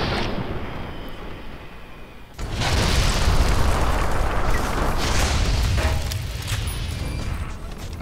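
Explosions in the video game Fallout New Vegas: a quiet rumble gives way to a sudden loud blast, followed by a sustained roaring boom and crackling debris that tails off slowly.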